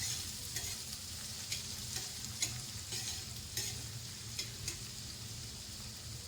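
Finely chopped onion sautéing in oil, a soft continuous sizzle with regular light scraping strokes from stirring about once a second, close and quiet with no voices.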